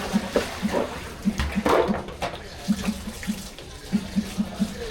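Water is poured out and refilled for a pet, close splashing and running tap water with irregular splashes throughout.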